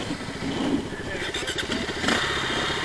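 A dirt bike engine on a trail, sputtering and struggling to stay running, with an uneven, loud, close burble that rises briefly near the end as it catches again.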